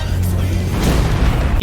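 A loud, booming explosion from an animated battle between Excalibur from Warframe and Raiden from Metal Gear, rumbling heavily through the low end with a brief sharper burst near the end.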